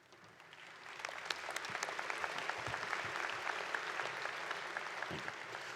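Commencement audience applauding at a university graduation ceremony, a steady broad wash of many hands clapping that swells in and holds throughout, with scattered louder claps and faint crowd murmur underneath.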